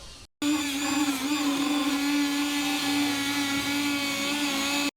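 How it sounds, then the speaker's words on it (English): A Dremel rotary tool cuts through plastic trim on a Toyota 4Runner, starting abruptly into a loud, steady, high-pitched whine that holds close and continuous for several seconds. "you should have a very straight cut that we're going to use our Dremel to get cut out of there"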